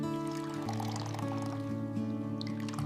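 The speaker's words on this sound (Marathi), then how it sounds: "त्यानंतर एका स्वच्छ पांढऱ्या कापडातून हे मिश्रण गाळून घ्या" Blended soy milk mixture being strained through a clean white cloth, a steady liquid pour and trickle running close and fairly quiet throughout, with a faint steady background hum under it.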